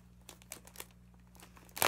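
A fake snow package is opened, giving scattered plastic crinkles and crunches at close range, ending in a loud tearing rustle, with no talk.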